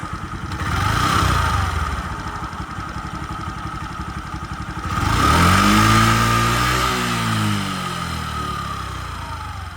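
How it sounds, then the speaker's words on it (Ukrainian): A Honda Dio AF-62 scooter engine runs close by, settling into a steady idle before a strong rev rises and falls, then returns to a smooth, even idle. "Двигунчик дуже гарно працює, ніяких зайвих ні звуків, ні питань я не чую"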